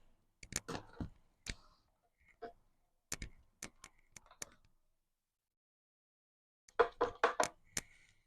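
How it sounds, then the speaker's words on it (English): A die-cutting machine works through tags with clusters of sharp, close clicks and ratcheting snaps, a few spaced taps early, a pause, then a quick dense burst near the end, faint with no talk. "Now die cut these two for some variety."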